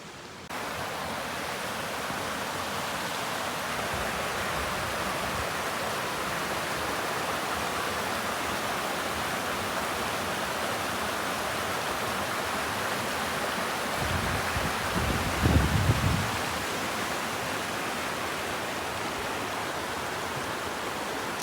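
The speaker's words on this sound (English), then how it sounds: "I'm just down here by the waterfalls." A steady, unbroken roar of rushing water from a waterfall at Silent Lake in winter pours on without pause, heard from nearby.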